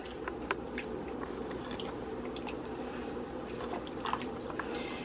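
Diced tomatoes being stirred in a pot of chili, giving soft, wet squelching and gentle spoon scrapes at close range, steady and quiet with no talking.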